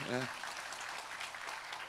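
A church congregation at a Sunday service applauds latecoming family members, with a short burst of voice at the start giving way to brief, moderately loud clapping.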